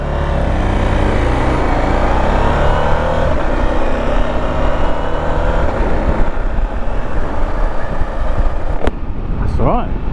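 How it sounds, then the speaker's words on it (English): A KTM 890 SMT sports-touring motorcycle's exhaust gives a thin, tinny engine drone under heavy wind rush while riding, with a rider talking over it throughout. "The exhaust note is nothing to shout home about."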